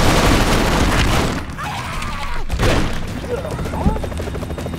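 Gunfire and explosive booms from the video game Expendabros, with dense rapid shots and bursts filling the clip, loud and busy throughout, mixed with other game sounds.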